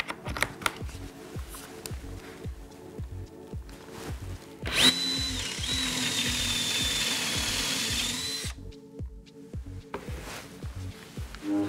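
A Festool C 18 cordless drill in second gear bores into wood with a large Forstner bit. Rapid rhythmic ticking clicks run throughout, and a louder sustained whirring grind rises through the middle of the cut.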